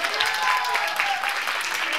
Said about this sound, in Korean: 100점이면 100점만큼 박수요!